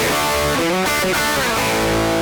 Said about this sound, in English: So this is the sound of the sound of your guitar amplifier with absolutely no speaker cabinet